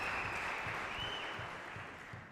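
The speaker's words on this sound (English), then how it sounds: "And the crowd going crazy" Sustained loud applause and cheering from the squash crowd at the 2014 Grasshopper Cup final, a thick, steady wash of clapping that eases slightly toward the end.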